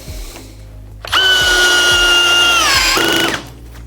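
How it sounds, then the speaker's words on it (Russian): A Skil DL6300D cordless drill runs at first speed with the clutch on setting 9, driving a screw slowly: a close, loud steady whine lasting about two seconds that drops slightly in pitch as the screw seats, then stops. "Очень медленно, но шуруп утапливает достаточно."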